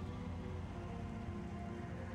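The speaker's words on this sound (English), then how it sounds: "we're gonna get raindrops on our visor" Rain patters on the visor in the video game Metroid Prime, a soft, steady wash of droplets with a low rumble underneath, faint and continuous, with no voices.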